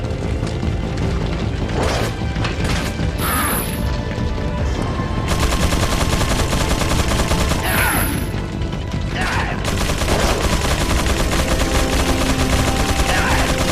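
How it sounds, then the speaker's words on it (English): Video game gunfire in Resident Evil 4 Separate Ways, dense and continuous with repeated shots, crashes and impacts layered over a busy, loud background throughout. "Who are even the guys shooting at right now?"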